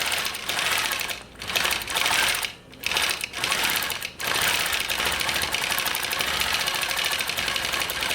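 A longarm quilting machine stitches background quilting on a quilt, a loud, continuous, rapid mechanical chatter that drops out briefly a few times before running on steadily, heard alone at close range.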